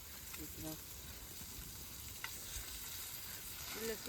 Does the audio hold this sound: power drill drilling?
no